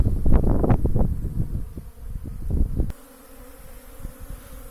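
Honey bees of Ukrainian steppe and Polissian breeds buzz in a busy, fluctuating drone on an early spring apiary flight, with wind rustling the microphone, then the sound drops to a quieter, thinner hum.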